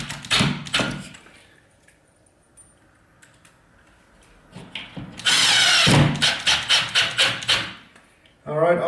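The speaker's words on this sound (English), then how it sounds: "I'll give it one more screw or two more screws" A power drill drives screws into the backing behind a wall patch, sounding as a sustained loud whirring burst followed by a rapid series of short pulsed bursts, with quieter handling noises and thumps earlier.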